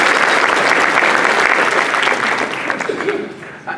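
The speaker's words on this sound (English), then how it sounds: "one more round of applause for Lindsay" Steady, close applause from an audience at an installation of officers and awards ceremony, loud and continuous throughout and easing slightly at the very end.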